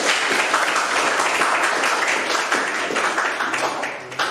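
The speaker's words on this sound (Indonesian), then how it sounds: "Oke, terima kasih, tepuk tangan dulu." Students in a technical drawing class applaud together, a steady, dense patter of many hands clapping close by and filling the room throughout.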